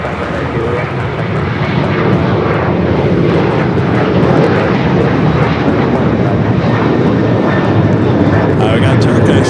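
Airliner arriving from Dallas at LAX roars loudly and steadily for nearly ten seconds, a broad engine rush with a voice talking over it.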